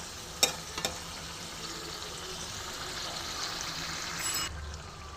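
Chicken pieces sizzle with spices in a hot pan, making a soft, steady frying hiss with a few sharp clatters near the start.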